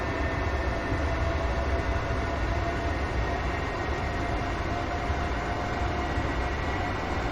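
A train in Train Simulator 2018 runs at speed on the Motherwell to Glasgow Central line through the Argyle line area, giving a loud, steady rumble with continuous track and wheel noise and no breaks.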